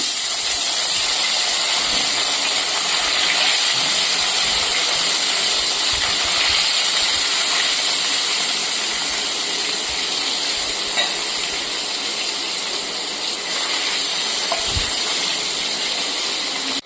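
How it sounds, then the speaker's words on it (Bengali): Bhola fish frying in mustard oil in a pan, a steady loud close sizzle and hiss that continues throughout, with faint clatters mixed in and no talk. "এবার মাছগুলোকে আমি ভেজে নিচ্ছি।"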